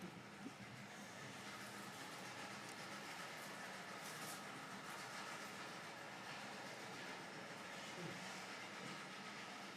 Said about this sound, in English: It's the steam train or locomotive